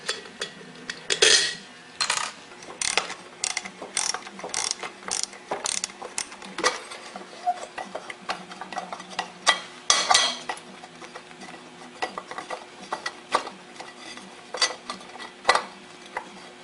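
Small screws being worked loose from the cover of a TV transformer produce a run of sharp ratcheting clicks and light metallic taps, close and fairly steady, with short bursts and pauses between turns.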